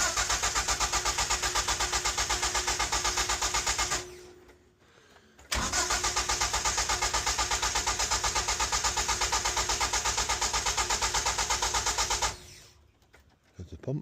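Classic Ford car engine started on E5 petrol fed by a hose, cranking into a steady loud running drone that cuts out near four seconds, restarts at about five and a half, then runs evenly before dying again near the end.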